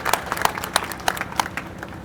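Loud applause from a crowd at an outdoor village rally, welcoming a new party member on stage: dense, steady clapping that runs through the whole moment with sharper individual claps standing out.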